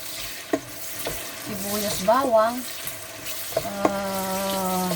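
Onion and garlic sauté in a pan, a soft steady sizzle with occasional utensil clinks and a few brief tonal squeaks.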